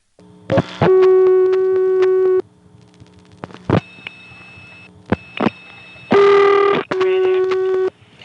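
A 1976 crossbar telephone exchange line in Hague, Virginia, answers dialing of 01 for the operator with loud steady tones, clicks and bursts of tone cut off by pauses, heard close on the line.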